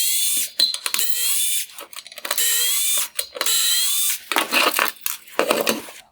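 A driver turns T15 Torx screws out of the LED drive unit on a 2014-2016 Porsche Panamera full LED headlight, giving close, intermittent bursts of ratcheting, clicking metal with short pauses between turns.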